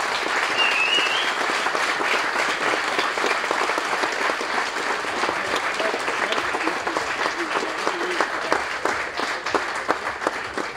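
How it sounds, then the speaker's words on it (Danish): Sustained applause from a large crowd, a dense steady wash of clapping that carries on without a break. "Så giv dem en ordentlig klapsalve."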